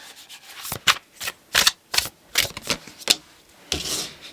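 Tarot cards shuffled by hand in a series of crisp, riffling bursts with short pauses between them, fairly close and loud, with no voice over them.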